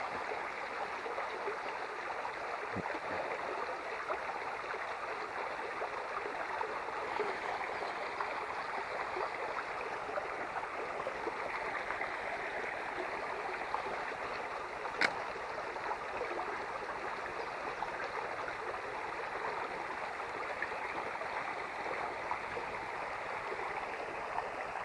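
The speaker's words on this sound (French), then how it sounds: "Le petit cours d'eau, vous voyez, c'est aussi ça, des petites cascades." A small woodland stream with little cascades and currents, fished from the bank, rushes and burbles steadily and evenly throughout, a constant close wash of water with no voices.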